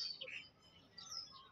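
Small birds outdoors give a few faint high chirps at the start and again near the end, thin and distant against quiet background.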